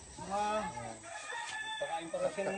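A rooster crows loudly nearby in Laguna, Philippines, its call rising and falling over a couple of seconds, with faint clucking around it.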